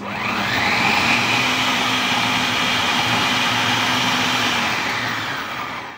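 An electric chopper minces bell pepper chunks with a steady, loud motor whir that holds for several seconds before winding down, with no voices.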